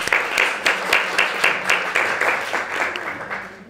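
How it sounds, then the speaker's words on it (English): An audience claps for a woman on a finance-themed breakfast show, the sound moderately loud and fairly steady, with a few sharper individual claps standing out before it gradually thins. "I think you deserve a round of applause"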